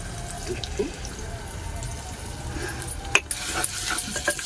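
Water runs from a kitchen tap into a vessel for making chutney, a steady trickling flow with sharper splashes and clinks near the end, close by and moderately loud.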